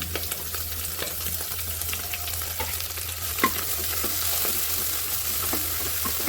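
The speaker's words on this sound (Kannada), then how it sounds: "ಮೆಂತ್ಯ ಸೊಪ್ಪು ಸ್ವಲ್ಪ ಫ್ರೈ ಆಗಿ" Fenugreek leaves frying for a vegetable pulao, a steady broadband sizzle with repeated scrapes and clinks of stirring over a low hum, fairly close and continuous with no talk.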